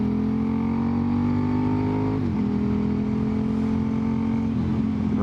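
A motorcycle drones steadily while accelerating on the road, its engine note holding and then dipping briefly at a shift, with constant wind roar and no talk.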